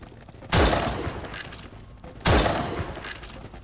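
Gunfire in the zombie video game No More Room In Hell: two loud, sharp blasts about two seconds apart, each trailing off in a long rumbling decay, close and dominant.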